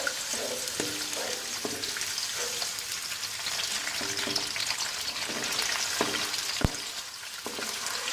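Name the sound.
onions frying in hot oil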